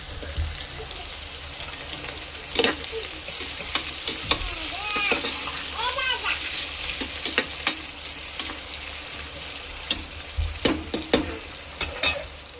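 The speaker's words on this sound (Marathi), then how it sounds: "आता टाकायचा आहे कांदा. आता याला चांगला भाजू द्यायचा." Chopped onion sizzling and frying in hot oil in a pan with cumin for chicken biryani, with steady crackle and repeated scraping stirs of a spoon, close and continuous, no talking.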